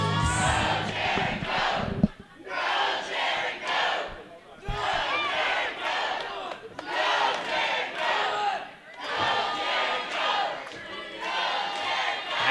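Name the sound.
crowd cheering in wrestling video game Wrestling Evolution Aggression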